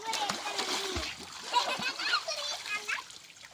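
A child splashes and plays in clear water, with bursts of splashing and dribbling close by under a child's chatter and an adult's voice.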